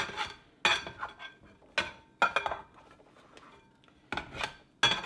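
Pizza dough mixed by hand in a metal bowl, with intermittent clanks and scraping rubs against the metal between quieter stretches, close and fairly soft.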